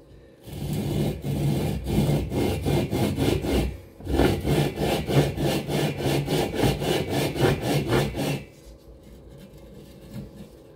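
Cylinder barrels of a VW 1600 air-cooled flat-four engine being lapped onto its cylinder heads, giving a loud, steady rhythmic grinding rasp of metal rubbing on metal in quick strokes, with a brief pause near four seconds and stopping before the end.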